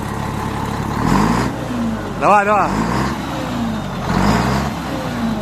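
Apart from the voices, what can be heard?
truck engine revving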